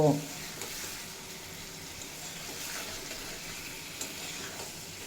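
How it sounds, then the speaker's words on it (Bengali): Vegetables for sukto are gently turned in a pan with mustard and poppy seed paste, giving a steady, fairly quiet sizzle with light scraping throughout and no talk. "সর্ষে পোস্ত বাটা দিয়েও আলতো হাতে এক থেকে দেড় মিনিট মতো নাড়াচাড়া"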